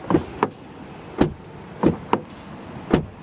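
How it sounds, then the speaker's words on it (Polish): Doors of an Audi Q6 e-tron being opened and shut, five separate solid thuds and latch clicks spread unevenly across a few seconds, close by and clear against a quiet background. "To, co jeszcze w tym aucie warto pochwalić, to jest odgłos zamykanych i otwieranych drzwi."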